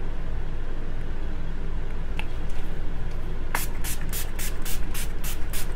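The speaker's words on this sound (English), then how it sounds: "Now I'm gonna hydrate my face with this Hydrate and Fix spray by Makeup Revolution." Makeup Revolution Hydrate and Fix face spray misted in a quick series of about eight sharp, hissing pumps, close and clear, after a stretch of quiet background hiss.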